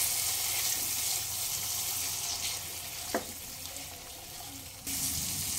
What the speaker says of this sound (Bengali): এবার অল্প একটু হালকা গরম জল দেব